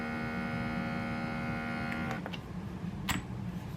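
An electric vacuum sealer pumps air out of a wide-mouth jar with a steady close motor hum that cuts off after about two seconds, leaving a few faint clicks.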